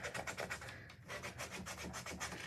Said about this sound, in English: Just sanding what I think looks good.